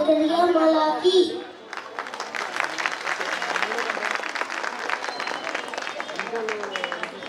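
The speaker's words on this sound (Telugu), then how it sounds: "ఒకసారి అందరూ చప్పట్లు పెట్టి బాగుందని ఆశిస్తున్నాను" An audience at a church Christmas event breaks into sustained applause, a dense, even clatter of many hands lasting several seconds, right after a voice speaks briefly.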